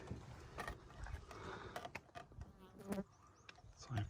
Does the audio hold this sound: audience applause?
no